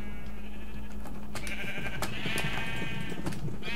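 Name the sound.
sheep bleating in Minecraft, a video game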